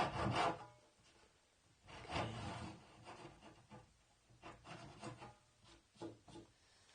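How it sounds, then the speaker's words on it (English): A hand saw notches wood on a bookcase being made over, giving a few rough rasping strokes, the first two louder and longer, then softer shorter scrapes, close and without speech. "I want to do is take a saw, and I'm going to notch that."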